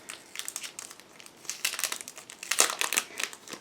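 A plastic bag holding decals and photo-etched parts for a Rye Field Model 1/35 Tiger I kit crinkles and rustles up close in irregular bursts, with no talking.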